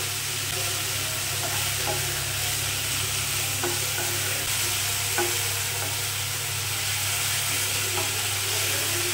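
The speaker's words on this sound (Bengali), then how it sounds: "আমি বাড়িয়ে কমিয়ে ভালো করে শাকটাকে ভেজে নেব।" Note sak greens with turmeric and salt fry in a pan with a constant close sizzle and hiss. Periodic scraping strokes of a spatula come through as the greens are stirred, and there is a low steady hum underneath.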